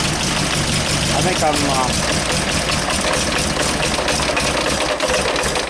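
Car engine idling on Weber/Dellorto carburetors after a spray bar conversion, with the carbs tuned to match on both sides; a steady, close, even idle runs throughout while someone talks over it.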